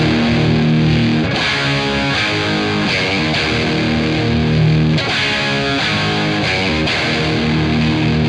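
Loud overdriven electric guitar, a Gibson SG, strumming chunky distorted chords in a steady rhythm with regular accents, close and dense, with no one speaking.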